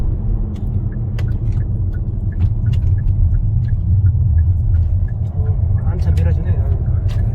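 A car rumbles at low speed while a voice speaks over it, with faint clicks and a brief rise near the end; the engine is meant to be switched off and restarted before driving away.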